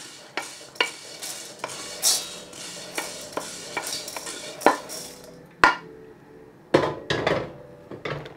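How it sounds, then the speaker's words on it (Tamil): Roasted green gram poured into a pan of roasted rice and urad dal, giving a run of sharp clattering and stirring scrapes, some louder knocks, and light rustling of dry grains in between. "இப்போ பயறையும் இந்த அரிசி உளுந்து வறுத்த இதோட சேர்க்கிறேன்"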